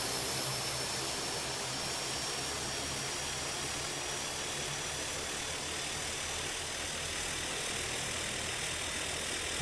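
Airliner jet engines taxi in Tower! Simulator 3 at Auckland, New Zealand: a steady, loud turbine roar with a thin high whine, unbroken and close throughout.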